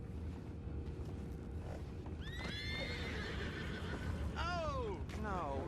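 Horses whinny twice in the video game Red Dead Redemption 2, each call a rising then falling neigh over a steady rumble of ambient game noise and hoofbeats.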